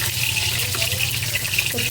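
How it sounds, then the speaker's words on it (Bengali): Water poured into a pan of frying vegetables, dried red chillies, onion and cumin to make curry broth, a steady close gushing stream, with a faint voice underneath. "ফোটার জন্য ঝোলের পানি দিয়ে দিচ্ছি,"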